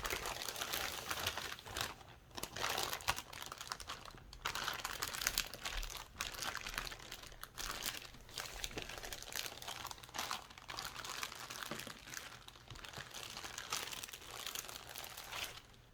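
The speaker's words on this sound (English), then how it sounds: "Let's fold up the plastic." Plastic packaging from a Hot Toys Black Widow Endgame action figure is folded up close, giving continuous loud crinkling and crunching with no talk.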